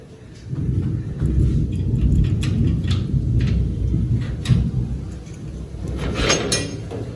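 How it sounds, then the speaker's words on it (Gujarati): Heavy rain pours over flooded streets in Surat, heard from a rooftop terrace as a steady, loud, rumbling roar with scattered sharp drips and knocks on top. "હવે તમને ઉપરથી બતાવું કે મિત્રો કેવો નજારો છે આ વરસાદ પડ્યો આજનો"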